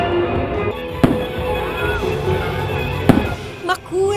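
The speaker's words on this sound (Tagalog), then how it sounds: "oras na para sa grand finaleng fireworks and laser show" Fireworks burst during a grand finale fireworks and laser show in Korea, two sharp loud bangs about two seconds apart plus a smaller pop, over a steady crowd murmur with some talk.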